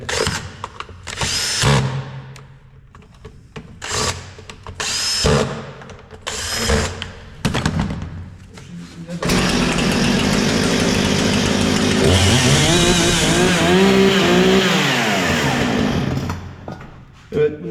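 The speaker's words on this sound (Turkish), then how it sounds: "Çalışmayan ya da uzun süre yatan motoru bu şekilde çalıştırabilirsiniz." A Husqvarna 460 chainsaw, a long-idle engine that had stopped running, gives several short bursts of engine noise while being started, then catches and runs loudly and steadily at close range, with voices heard early on.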